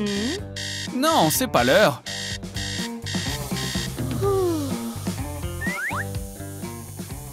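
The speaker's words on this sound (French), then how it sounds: "Ok, arrête de sonner. Annulez l'alarme." A cartoonish electronic alarm clock rings with warbling, repeating chirps in a bedroom wake-up scene over music, while a voice speaks.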